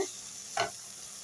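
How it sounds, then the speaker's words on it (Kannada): Masala frying in a pan gives a low steady sizzle, cut by one short scrape of a spoon mixing it midway, close and without any voices. "ಚೆನ್ನಾಗಿ ಮಿಕ್ಸ್ ಮಾಡೋಣ ನೋಡಿ ಇವಾಗ ಮಸಾಲ ಸ್ವಲ್ಪ ಫ್ರೈ ಆಗಿದೆ"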